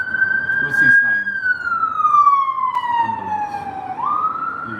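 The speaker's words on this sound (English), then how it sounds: "Ambulance. You can hear." An ambulance siren wails past on a Sheffield street, its tone sweeping steadily then dropping as it moves away, loud and continuous over faint background voices.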